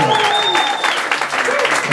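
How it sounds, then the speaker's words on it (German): Applause for a school band after its first performance together at a band marathon at a Humboldt gymnasium, loud, dense clapping sustained throughout, with a voice and a ringing tone overlapping the claps. "einen großen Applaus, weil das war echt toll"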